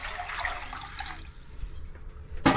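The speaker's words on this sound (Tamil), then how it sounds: "தண்ணி ஊற்றிக்கலாம்" Water splashes and pours briefly into a cooking pot up close, fading to a trickle before a short sharp clatter at the end.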